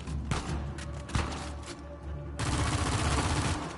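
Rapid bursts of machine gun fire crackle in Uncharted 4: A Thief's End gameplay, loud overlapping shots with thuds, building into a dense, continuous fusillade in the second half.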